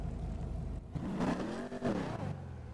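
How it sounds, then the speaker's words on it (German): Car engine revving in neutral as the gas pedal is pressed, a steady idle rising into a swelling, rumbling rev around the middle and then settling back, with faint voices in the background. "Versuch mal im Leerlauf aufs Gaspedal zu drücken."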